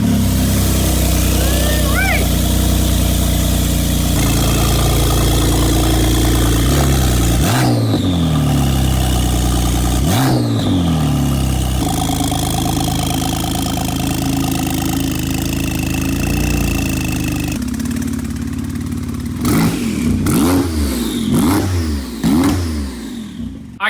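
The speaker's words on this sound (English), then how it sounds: "we wanna talk about the Porsche, the other Porsche right there. Let's fire that sucker up." A Porsche GT3 engine starts up and idles, then is blipped repeatedly with sharp revs that rise and fall, loud and close, with people talking over the engine.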